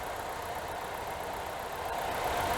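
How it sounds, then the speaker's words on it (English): Steady, low idle of a 2006 Chevy HHR engine close by, a smooth continuous hum with faint rattle and no voices. "It's nice, a quiet engine."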